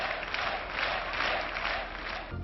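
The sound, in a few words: applause for François Léotard at a political rally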